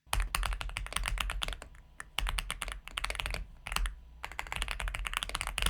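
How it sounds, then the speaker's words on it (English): Rapid clacky mechanical keyboard typing, close and loud, in quick bursts with a few short pauses between runs of keystrokes. "I already have keyboard sounds on my keyboard"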